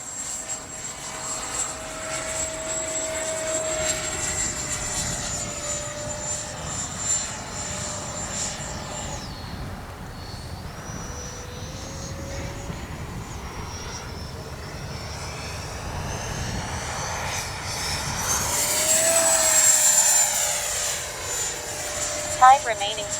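An FMS 80mm F-86 Skyblazers RC electric ducted-fan jet flies overhead in a steady, whining roar that swells and fades as it passes, with a brief louder surge as it comes close; outdoor wind noise sits beneath it.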